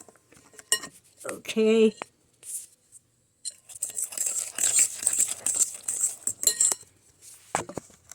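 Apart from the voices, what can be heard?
fork mixing brown sugar and eggs in a bowl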